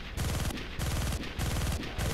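Rapid automatic weapon fire in the mech combat game MechWarrior Living Legends, coming in three sustained, loud bursts of rattling shots separated by short gaps.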